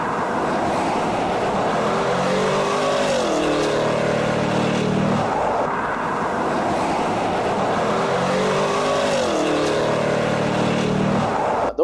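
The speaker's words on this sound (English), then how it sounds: "just listen to that thundering exhaust note, with the 4 exhaust outlets delivering quite a healthy bark" A supercharged Cadillac Escalade-V with an LT4 V8 and four exhaust outlets accelerates hard in two successive pulls, its deep exhaust roar rising in pitch each time before easing off.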